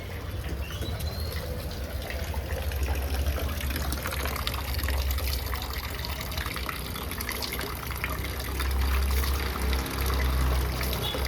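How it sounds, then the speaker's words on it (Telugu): Water runs steadily from a tap in a continuous, fairly loud stream that fills the whole stretch without pause. "ట్యాప్ ఆపేనా"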